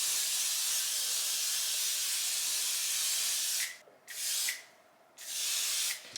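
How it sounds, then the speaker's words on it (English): Light hold hairspray sprayed onto a wig: a close, loud aerosol hiss in long bursts with two brief pauses near the end, no talk. "So this is a light hold hairspray."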